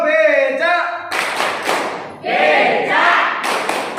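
A group of teachers at a training session performs a clapping chant: voices chant in unison for about a second, then loud, rhythmic group hand claps follow in bursts, with brief chanted calls mixed in.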